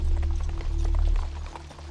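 Horses' hooves clip-clop in a steady, close rhythm over a deep low rumble that fades partway through, with no voices.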